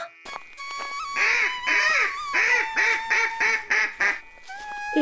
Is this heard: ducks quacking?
yes